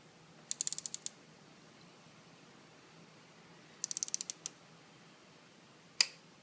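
Torque wrench on a spark plug of a 2008 Jeep Patriot, giving two quick bursts of close, crisp ratcheting clicks followed by a single sharp click as the set torque is reached, in an otherwise quiet space.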